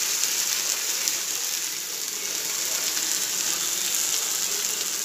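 Bottle gourd and egg dosa batter poured onto a hot pan sets off a steady, even sizzle that holds at moderate loudness throughout.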